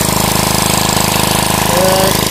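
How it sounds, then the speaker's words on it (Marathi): A water pump machine on a rice field in an Alibag village runs steadily, a loud continuous engine throb with rapid mechanical pulsing and no pauses throughout. "इथे मशीन आहे, मशीनमुळे आपण शेतामध्ये पाणी टाकत होतो आपण"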